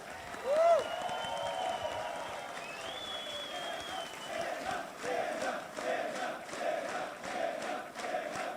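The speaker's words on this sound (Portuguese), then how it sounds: "Eu quero que vocês recebam com muitos aplausos Renan Santos e Haroldo Medina." Audience applause and cheering at a political campaign event, a steady distant wash of clapping with crowd shouts and a faint whistle, fairly quiet and sustained throughout.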